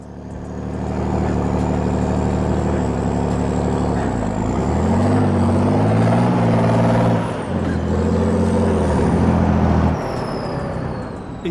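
Swedish PBV 302 armored vehicle driving, its engine a loud, steady low drone with rising and falling harmonics as it revs and shifts, briefly easing near the middle before surging again, with no talk.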